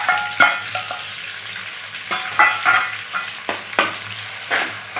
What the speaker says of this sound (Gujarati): એને સરસ આપણે તેલમાં સાતડી લેશું।